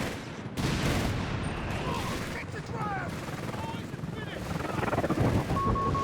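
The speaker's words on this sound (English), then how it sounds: "Well, that was a spicy explosion there." V1 rocket strike in Company of Heroes 3 detonates as a sustained, loud rumbling blast with crackling gunfire-like bursts, heard under a commentator's continuous talk.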